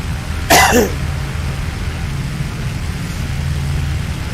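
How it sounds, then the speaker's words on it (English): A single harsh cough, close and loud, rises briefly over a steady engine-like drone that continues afterward. "Still working on this cough."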